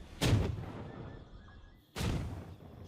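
Grenades thrown by the Sengoku Daimyo unit in Age of Empires IV burst twice as booming, thudding blasts about a second and a half apart, each fading into a brief rumble.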